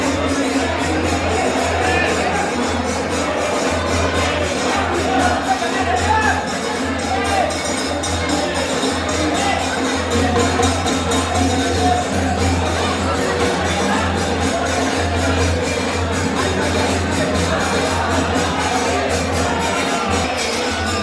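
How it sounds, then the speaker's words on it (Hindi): A dense crowd of kanwariya pilgrims fills a temple during the Sawan festival, a continuous murmur of many voices with a steady low hum, carrying on evenly throughout with no single speaker standing out. "भीड़ तो काफ़ी थी"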